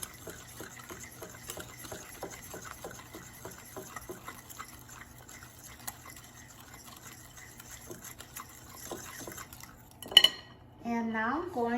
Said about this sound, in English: And now let's mix until combined.